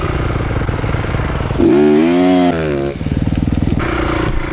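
An enduro motorcycle pulls away on a GNCC-style practice track, the engine revving hard and rising in pitch as it launches, loud and close, then dropping back into a rough, steady drone.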